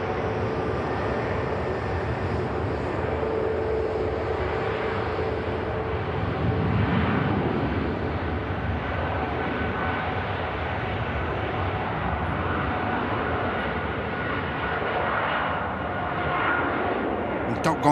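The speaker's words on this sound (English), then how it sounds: "Stunning Qatar 777 back to Doha in the Middle East." A Qatar Airways Boeing 777 departs the airport, its jet engines a steady broadband roar that holds level throughout, with people talking faintly underneath.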